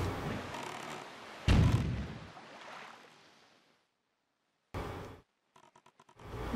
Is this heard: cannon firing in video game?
yes